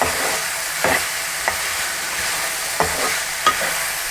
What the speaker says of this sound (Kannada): ಇದರೊಟ್ಟಿಗೆ ಹಾಕಿ ಬಾಡಿಸ್ಕೊಳ್ತಾ ಇದ್ದೀನಿ.